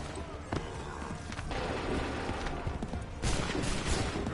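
A musket volley fired by a line of soldiers in Assassin's Creed III, with sharp cracks of shots and a louder burst near the end, set against battlefield noise and shouted voices.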